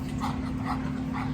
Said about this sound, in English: Apologize for the dogs.